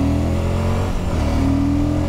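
Suzuki V-Strom 1050 XT motorcycle from 2021, its engine revving loudly and close, a dense continuous roar that briefly dips in the middle before climbing back to a steady high drone, with no voices.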